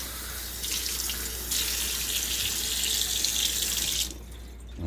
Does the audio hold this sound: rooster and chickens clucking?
no